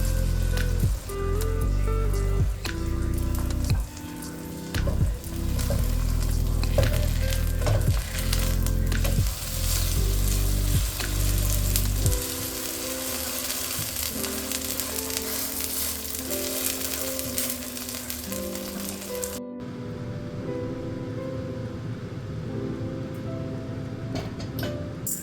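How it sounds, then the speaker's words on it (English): Korean veggie pancake batter fries in a heated pan, a continuous crackling sizzle, close and steady, mixed at first with heavy low thumps and music-like tones before the hiss continues alone. "In a heated pan, add the pancake mixture."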